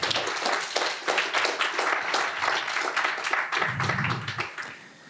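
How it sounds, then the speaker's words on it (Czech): A small room full of people claps for team Singer at an academic award announcement, brisk scattered hand claps forming steady, moderately close applause for about five seconds. "Tak poprosím o potlesk pro tým Singera."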